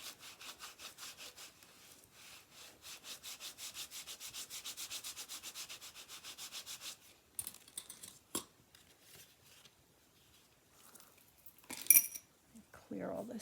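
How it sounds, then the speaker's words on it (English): A tool is rubbed steadily back and forth over a gilded notecard in a quick, even rhythm for about seven seconds as it is burnished. A few soft handling clicks and rustles follow, all faint and close. "I just want to give that one final burnish"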